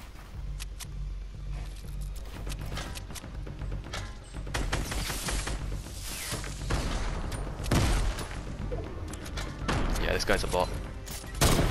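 Rapid gunfire bursts and impacts rattle through a Fortnite match, with shots coming in clusters that grow louder toward the end, while a player talks over the action.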